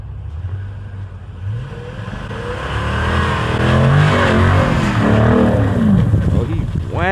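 A Ram TRX or SRT Durango revs hard while sliding in snow, the engine roaring and surging in pitch over several seconds, loud and close, with people talking and shouting over it.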